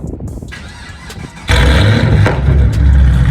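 A car engine with its catalytic converters removed warm-starts after a second of cranking, then settles into a loud, steady, rumbling idle close by.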